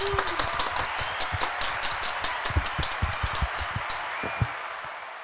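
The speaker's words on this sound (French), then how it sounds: "Je vous demande de faire un tonnerre d'applaudissements pour Léo." An audience applauds during a French-language show, steady mid-level clapping from many hands at moderate distance, a continuous patter of claps with some sharper nearby ones.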